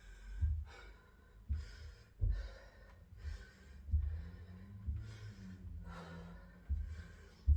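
Deep, heavy breathing between boxing fitness rounds, slow regular inhales and exhales close to the microphone, about eight breaths, with no talking.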